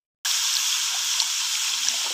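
Water pours into a cooking pot holding cut bamboo shoots for boiling. A sudden, steady, bright splashing stream starts after a brief silence and runs on evenly, close and moderately loud.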